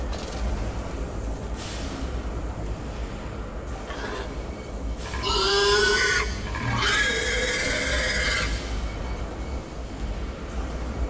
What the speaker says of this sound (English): the evil pig things that are trying to eat me